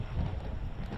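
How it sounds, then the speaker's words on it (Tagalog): Strong wind buffets the microphone outdoors at a vegetable garden plot of gourds and cucumbers, a brief, heavy, rumbling gust. "sobrang lakas ng hangin"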